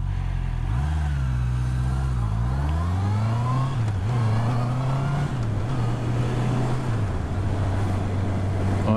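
A four-cylinder Honda Rebel motorcycle accelerates up close, its engine note rising through gears with short dips at each shift and then holding a steady drone, loud and continuous.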